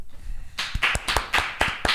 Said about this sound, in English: I would appreciate it if you guys would clap a little